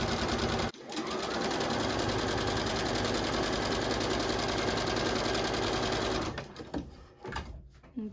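A sewing machine stitches a fabric table runner with an orange print, running steadily and loudly for about six seconds before it slows and stops, leaving a few softer mechanical sounds.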